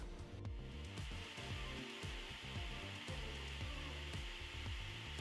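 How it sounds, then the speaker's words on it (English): Cooling fans on a Prusa MK4 3D printer spin up during its self-test, a steady whirring hum that rises in speed, fairly close and alone, with faint mechanical clicks and tones underneath. "First, it will test the fans. You might be able to hear that in a second. It gradually ramps up their speeds"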